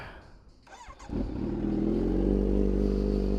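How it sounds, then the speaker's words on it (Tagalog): A motorcycle engine idles steadily to warm up, its low rumble building after a brief clatter of starting and then holding loud and close. "Kailangan kasi maintain yung kanyang engine laging umaandar."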